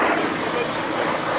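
A Hawker piston-engine aircraft flies past at an airshow, its engine giving a loud, steady, broad roar with no break.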